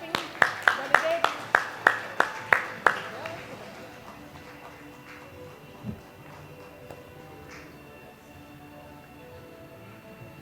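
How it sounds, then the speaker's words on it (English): Conference delegates clap in a quick, sharp burst of about a dozen loud claps over the first few seconds, then it fades to a quiet hall with faint voices. "Keep on clapping, delegate."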